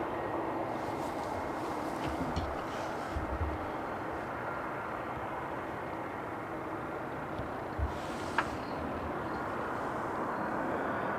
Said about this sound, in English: Delta Airlines flight 74 is about to touch down. It's an Airbus A388